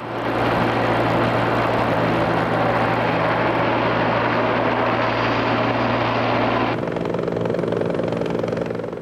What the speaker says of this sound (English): The Coast Guard patrols our coastal waters in long-range helicopters.